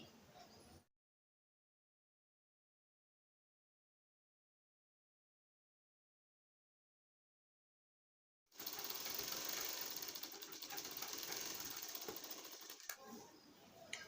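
Sewing machine stitching folded fabric while making a bra: a brief burst, a long silence, then a steady, close run of mechanical stitching that holds to the end.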